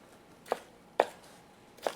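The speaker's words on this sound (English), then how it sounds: "Just give them a rough chop." Knife chopping green peppers and onions roughly on a cutting board: three separate crisp, fairly close chops spaced about half a second apart, with no talk.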